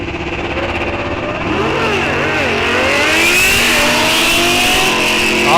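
Drag racers launching at Rock Falls Raceway, one a Yamaha road-racer motorcycle fitted with a wheelie bar, engines revving loud and rising in pitch as they pull away, with a voice faintly audible under the roar.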